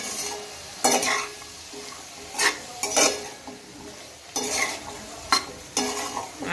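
Spoon stirring ivy gourd and potato curry in a pan, a faint sizzle of frying throughout with several distinct scraping, clattering strokes against the pan at irregular intervals, close by and without talk.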